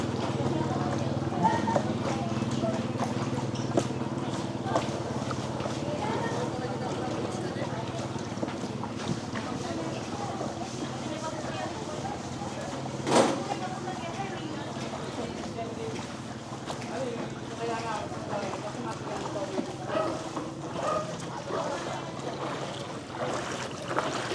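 Waves slap and wash against a small boat moving through floodwater, a continuous choppy rush with wind noise and a sharp knock partway through, while people talk over it.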